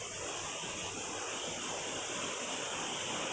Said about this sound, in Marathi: खूप सुंदर धबधबा आहे